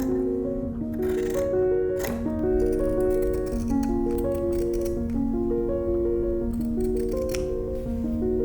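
Scissors cut through pinstripe fabric to shape facing pieces for the armholes of a Victorian-style lady's waistcoat. Several crisp snips sound close by over a steady bed of background music.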